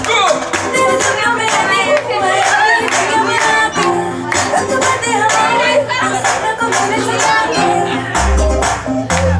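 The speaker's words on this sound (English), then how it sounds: "We don't start clapping, the body start clapping." Guests at a pre-wedding party clap along in rhythm over loud music with a driving beat, the hand claps blending into the song at close range with people shouting now and then.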